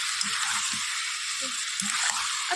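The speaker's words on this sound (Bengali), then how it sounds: "চলো আমি একটু ভালো করে কষিয়ে নিই মাছটাকে" Lote fish (Bombay duck) being sautéed in a pan, a steady bright sizzle of frying running throughout, with soft low stirring knocks now and then.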